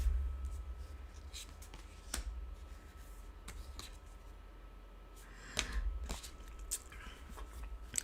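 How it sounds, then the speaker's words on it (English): Tarot cards being shuffled and drawn during a reading, heard as soft papery riffles and scattered sharp flicks over a low steady background hum, fairly close and quiet with no talking. "I'll pull some cards for you"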